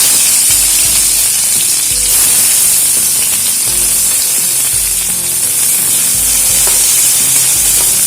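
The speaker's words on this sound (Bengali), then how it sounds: "আর এর মধ্যে দিয়ে দেবো কেটে রাখা পেঁয়াজ" Chopped onions frying in mustard oil in a kadai, a loud, dense hissing sizzle with stirring scrapes running throughout, close and unbroken, no voices.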